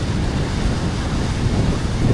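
Wind blows hard at the coast beside a historic lighthouse in Washington state, a loud, steady, broadband rush buffeting the microphone with no voices.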